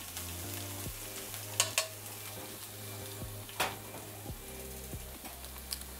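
Garlic frying and slowly browning in a pan for spicy garlic noodles, a steady low sizzle with a few sharp clinks of a utensil against the pan, close and alone with no voices.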